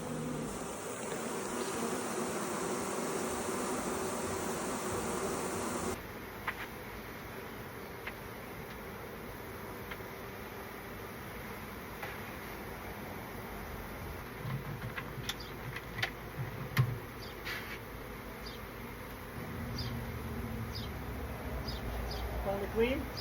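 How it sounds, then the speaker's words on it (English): A swarm of honey bees that has moved into a desk buzzes steadily in a dense, close hum throughout, with faint handling noises and scattered clicks layered over it. "We are going to wrangle bees. They have moved into here."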